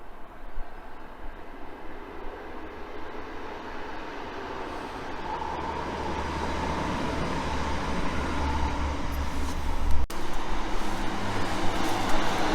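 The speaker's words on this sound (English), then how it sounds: "So these are all trains that you can hear passing me." Trains passing on railway lines near the disused Wortley West Curve in Leeds, a distant rumble that gradually builds louder, mixed with faint traffic-like background noise.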